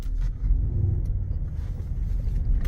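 A 2019 Mercedes-Benz GLE 63 AMG driving, heard from inside as a low, steady road rumble and engine drone with light wind noise, continuous and moderately loud, with no talk.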